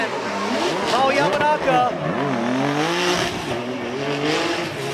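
Formula Drift Japan drift cars in competition: engines roar and rev with rapidly shifting pitch, tires squeal, and exhaust pops crackle, all under continuous excited commentary.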